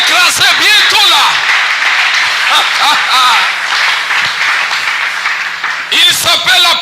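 Church congregation applauding, a dense crackle of many hands clapping continuously, with voices cheering and speaking over it.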